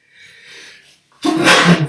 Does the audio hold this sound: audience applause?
no